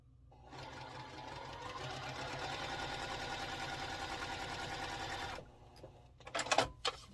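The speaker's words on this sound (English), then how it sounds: "I'm just going to sew these with a 1/4 inch seam." Sewing machine running steadily for about five seconds, stitching quilt fabric with a quarter-inch seam for a sampler quilt block, followed by brief handling noises and a few sharp clicks; no talking.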